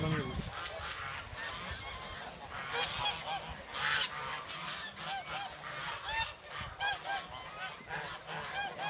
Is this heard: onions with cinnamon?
no